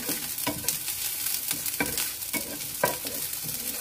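Onion and garlic sauté in a hot pan for a home-cooked squash dish, a steady close sizzle broken by repeated sharp scraping strokes of a spatula stirring at regular intervals.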